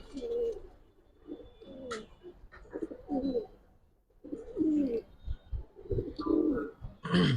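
Close, fairly loud cooing from a Giribaz pigeon comes in repeated guttural rolling bursts, with brief pauses and a faint sharp click or two among them.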